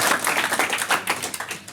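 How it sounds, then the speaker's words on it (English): Wedding guests clap after a couple is declared husband and wife, a brief, dense burst of applause heard close and lively, with no voices over it. "Round of applause from everybody."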